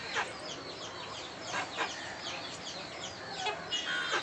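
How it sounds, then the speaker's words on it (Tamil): A pet chicken clucks in short repeated bursts at close range, with several quick calls scattered through a steady outdoor background. "இது எங்கள் கோழி தான்."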